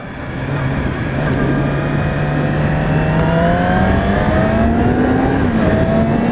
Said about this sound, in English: to really get the power out of it, you still have to kind of rev the crap out of it